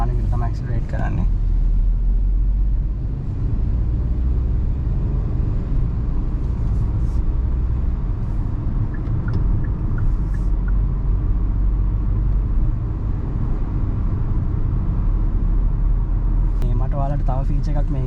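Kia Sonet GT Line 2025 with a 1000cc engine pulls away from a standstill under moderate throttle, a steady low engine drone and road rumble filling the cabin throughout.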